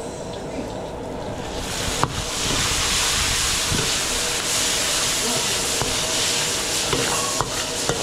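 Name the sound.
sautéing garlic and onion in a pan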